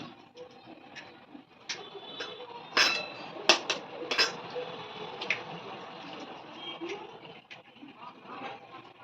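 Two eggs whisked in a bowl give a quick run of clinking, tapping strokes with sharper clicks in the middle, close and fairly soft, while someone talks over the sound.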